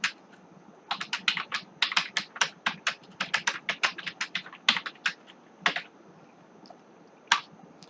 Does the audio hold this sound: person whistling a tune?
no